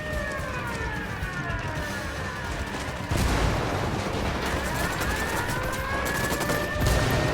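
Sustained rattling gunfire in Ghost Recon Wildlands fills the whole stretch, with a siren-like whine weaving through it and the barrage growing louder partway along.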